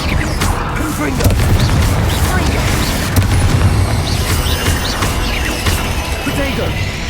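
Confringo fire-spell blasts go off in the video game Hogwarts Legacy, a dense run of booming, crashing explosions and debris that rumbles almost continuously at high volume.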